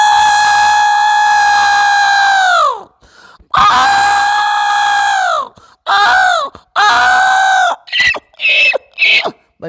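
A man imitates a mother elephant trumpeting, with loud, long harmonic blasts that slide downward at the end, followed by shorter, sharper squealing calls in quick succession, close and alone.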